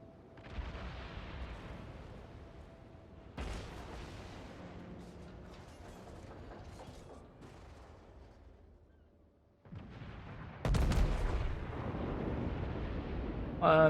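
Naval guns fire in the video game World of Warships during a battle involving an Iowa battleship. Booming salvos come at intervals, each with a rolling rumble that trails off, and a sharper, louder blast follows late on.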